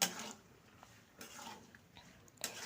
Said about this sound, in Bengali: এগুলো সব একসাথে একটু মিশিয়ে নিলাম